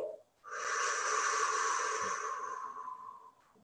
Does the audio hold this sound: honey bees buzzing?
no